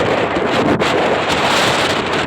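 Strong wind blows during rain, a loud, steady roar that buffets the microphone without a break, close and continuous, with no one speaking.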